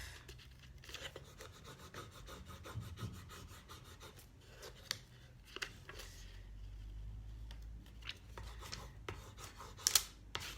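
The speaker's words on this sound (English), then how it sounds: "just rub over it fully and start peeling it off." A ReDesign rub-on decor transfer is rubbed firmly and then peeled away, giving close, quiet scraping and rasping strokes in an uneven rhythm with a brief crackle near the end.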